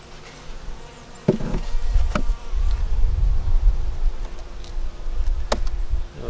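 Honey bees from a South Carolina hive with a yellow queen, buzzing steadily and close while the hive is open, a continuous low hum with a few sharp knocks and clicks from handling the frames.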